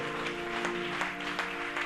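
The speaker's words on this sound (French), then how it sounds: "Que celui qui croit dise Amen et donne des acclamations à l'Éternel." A church congregation at a spiritual revival service claps and cheers together, a continuous roar of applause under sustained tones from instruments or voices, steady and fairly loud throughout.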